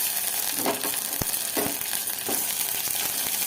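Chicken frying with onion, green chilies and curry leaves for gongura chicken, a bright constant sizzle with a few sharp stirring scrapes spaced through, no talking.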